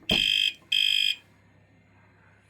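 Two loud, shrill electronic alarm bursts from a TECKNET bike alarm set off by vibration, each about half a second long with a short gap between, close to the device, followed by quiet.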